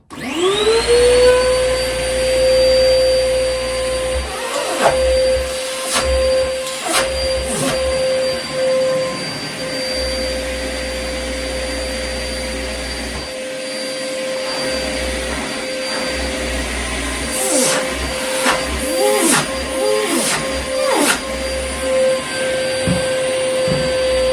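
A dust extractor runs with a steady, loud whine and roar throughout, with occasional knocks and handling noises on top.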